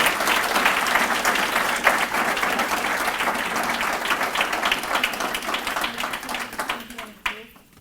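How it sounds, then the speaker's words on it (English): Audience applause for sponsors at a state parks centennial kick-off ceremony, sustained clapping from a gathered crowd that gradually thins and tapers off near the end. "let's have another round of applause for all of our sponsors."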